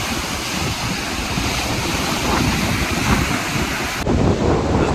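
Waves on a Lake Erie beach at Headlands Beach State Park, Ohio, a continuous wash of surf mixed with heavy wind buffeting the microphone, loud and steady with no voices.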